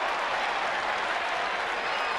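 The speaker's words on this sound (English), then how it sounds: "Crowd has been wanting to cheer about something for a while." A basketball arena crowd applauds and cheers in a dense, continuous wash of clapping that holds steady throughout.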